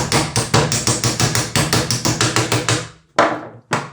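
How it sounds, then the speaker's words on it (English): Rapid, loud hammer strikes drive pins into a dented rail while a Moray is assembled, about seventeen evenly spaced blows followed by a pause and two final, separate hits, close and alone. "that's a lot of hammering"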